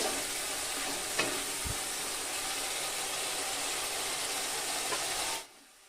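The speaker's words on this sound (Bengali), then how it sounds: "এবার আমি কেটে রাখা আলুগুলো দিয়ে দেবো তো আলুটা দিয়ে মশলার সঙ্গে ভালোভাবে মিশিয়ে নিতে হবে" Potato pieces fry in an oily spice paste for bele macher tel jhal, a steady, even sizzle close by with a couple of faint spoon taps before it stops suddenly.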